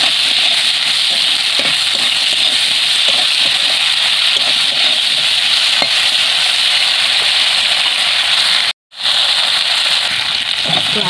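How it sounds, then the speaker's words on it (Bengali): Steady, dense sizzle of potatoes frying in hot oil, with occasional crackles and scraping clicks throughout, briefly cutting out near the end. "আলুগুলো লাল করে এরকম ভাজা হয়ে গেছে"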